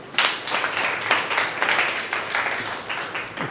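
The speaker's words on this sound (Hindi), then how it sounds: "इनके लिए सब ताली बजाइए" Schoolchildren in a classroom clap for a classmate, a short burst of uneven, close hand claps with a few sharper individual claps standing out.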